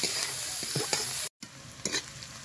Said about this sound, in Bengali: পেঁয়াজ, রসুন, কাঁচা লঙ্কা খুব ভালো করে একটু ভেজে নিয়েছি।